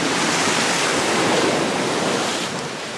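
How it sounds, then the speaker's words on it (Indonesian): Tidal waves batter the coast at Haya Beach in Central Maluku, striking a public cemetery during a flood; a loud, continuous roar of surf and wind fills the clip and eases slightly at the end. "Banjir rob dan gelombang pasang menghantam tempat pemakaman umum."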